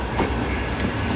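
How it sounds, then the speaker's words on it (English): Tram rolling past close by on a street beside Manchester's Castlefield area, a steady low rumble of wheels on rail with faint rhythmic clatter, loud and continuous over the short span with no voices. "there's a tram. It's coming past on the left of us into the city"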